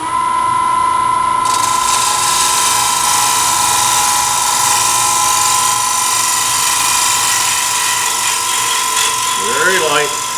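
A bowl gouge makes a light cleanup cut on a roughed-out wooden bowl spinning on a wood lathe, a loud continuous motor hum with a steady scraping hiss, close and unbroken, with someone speaking over it.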